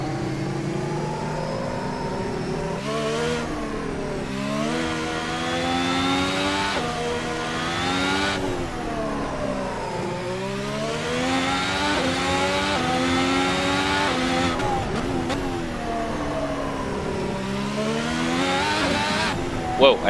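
A car engine in a racing video game revs steadily, its pitch rising and falling in repeated sweeps as the car accelerates and shifts. The whine plays without pause for about twenty seconds over a steady background.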